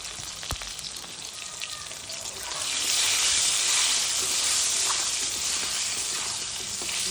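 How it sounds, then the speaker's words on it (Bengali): Potatoes fry in a pan with salt and turmeric, a close sizzle that swells louder after a few seconds and crackles on steadily. "একটু আলুটা ভাজা হোক"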